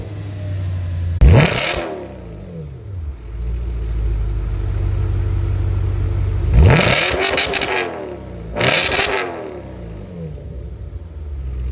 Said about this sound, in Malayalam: ജസ്റ്റ് ഒന്ന് എക്സോസിൻ്റെ സൗണ്ട് കേട്ട് നോക്കാം.